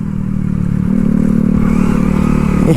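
A motorcycle engine revs loudly and steadily up close as its wheel slips, the deep drone rising slightly with rough clattering underneath and no voices over it.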